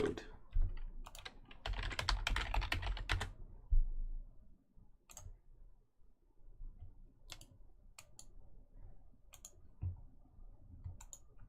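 Typing on a computer keyboard while coding a web app: a busy flurry of quick keystrokes early on, then sparse, isolated clicks and taps spread out over the remaining seconds, close and fairly quiet.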